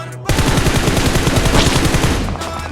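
Loud burst of rapid automatic gunfire in PUBG Mobile, a fast rattling string of close shots that starts abruptly and runs for about two seconds before tailing off.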